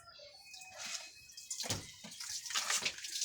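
Water running from a tap into a container, a close splashing gush that grows fuller and louder over a few seconds.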